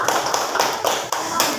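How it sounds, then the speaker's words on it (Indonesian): A small group of students claps together in a classroom, with a few distinct bursts of hand claps that are close and moderately loud, some voices mixed in. "Oke, tepuk tangan semuanya."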